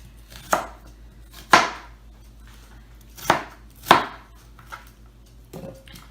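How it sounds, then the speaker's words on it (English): A knife chops an onion into chunks for a vegetable dish, with about five sharp, separate strikes spaced irregularly, each a crisp close thud on the board, with no talking. "And cutting up the onion."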